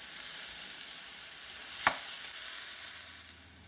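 Broccoli, capsicum and carrot fry lightly in a pan, giving a faint, steady sizzling hiss with a single sharp click midway.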